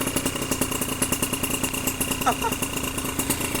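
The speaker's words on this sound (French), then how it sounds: "Je ne vais pas mettre des gros coups de gaz parce que Space Road c'est son réel premier vrai démarrage au ralenti là" A Suzuki RMX two-stroke dirt bike with a 28 mm carburettor idles on one of its first real starts, a close, steady buzzing putter with a fast even pulse; a voice talks over the engine.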